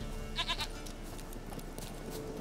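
A goat bleats in The Witcher 3, a short wavering cry near the start over ambient game background noise, with no other voices.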